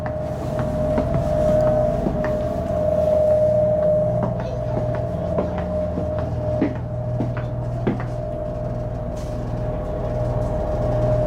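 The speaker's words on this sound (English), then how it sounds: "The express Azusa just arrived from Shinjuku, Tokyo." JR express Azusa from Shinjuku at a station on the Chuo Line, a low steady rumble and drone with a sustained tonal hum and scattered clunks and knocks over about eleven seconds.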